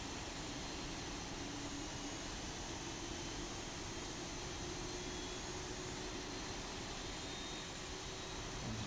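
A Boeing 737-800 in the X-Plane 11 flight simulator drones with a steady, dense engine roar and a faint rising tone as engine two spools up, continuous and even throughout, with no talking.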